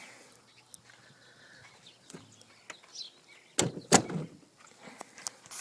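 Screen door on the back door of a 2000 Chinook Concourse diesel motorhome, two sharp close clacks and rattles near the middle, with faint handling knocks before and after.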